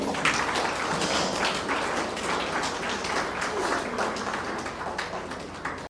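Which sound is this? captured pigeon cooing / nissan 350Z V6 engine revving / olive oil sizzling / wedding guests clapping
wedding guests clapping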